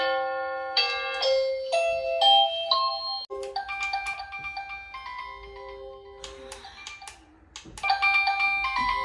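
A Byron DBY-22317UK wireless doorbell chimes through a series of short electronic melodies, bright clear tones in quick succession with brief pauses between tunes, fairly close and alone.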